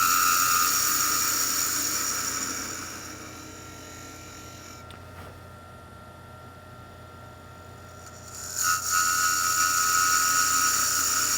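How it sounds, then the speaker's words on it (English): A wood lathe spins a toy top while parting off excess from the end: a high, steady whine and hum, dipping quieter midway, then a brief scraping cut before the whir returns at full level, with no talking. "If you have any excess on the end, you can part that off"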